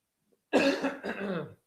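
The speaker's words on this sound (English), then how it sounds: "Coughing this morning." A single close cough, a harsh burst followed by a rougher second push, standing alone in near silence.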